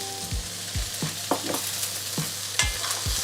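Bhindi frying with coriander powder, red chilli powder and salt under a steady close sizzle, while a utensil scrapes through it in several irregular stirring strokes; nobody speaks.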